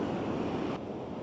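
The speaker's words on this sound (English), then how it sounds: "Now the waves are coming in really nicely." Ocean waves wash onto the shore in a continuous broad roar, mixed with wind buffeting the microphone, with no voices.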